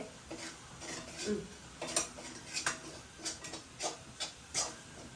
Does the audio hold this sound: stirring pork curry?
yes